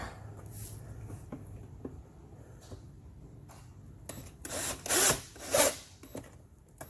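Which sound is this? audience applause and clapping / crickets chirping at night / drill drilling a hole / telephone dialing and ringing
drill drilling a hole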